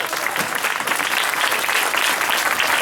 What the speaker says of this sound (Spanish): Fuertes, fuertes aplausos.